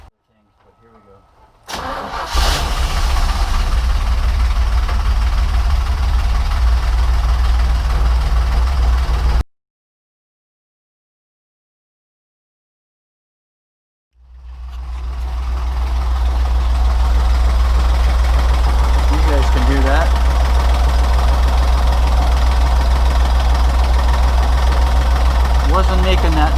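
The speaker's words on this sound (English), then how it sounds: "there's a clickety bang noise in the engine that wasn't there before" A 1951 Willys Wagon engine cranks and runs with a clickety banging knock, loud and close; it cuts out for a few seconds, then restarts and idles steadily, with a person talking over the noise.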